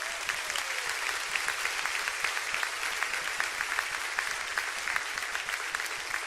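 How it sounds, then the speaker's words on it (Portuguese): A church congregation applauds during a Portuguese-language sermon, a steady dense wash of many hands clapping for the whole stretch, fairly close and continuous. "Uma salva de palmas, querido."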